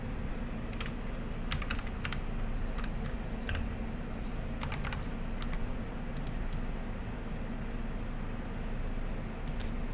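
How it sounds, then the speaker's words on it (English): Someone types on a computer keyboard in irregular bursts of close clicking keys over a steady low background hum, with no talking throughout. "Otherwise I will type it."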